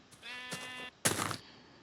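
Two sheep bleats from the Minecraft video game, Alpha version: a long, wavering, harmonic bleat followed by a shorter, louder, rougher one, close and clear with no talk.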